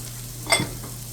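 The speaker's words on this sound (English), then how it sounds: "we got our onions in there. We're going to add just a little bit of salt to those, help them sweat down a little bit" Chopped onions with a little salt sizzle and stir briefly in a chili pot: one short, soft burst of frying over a steady low hum.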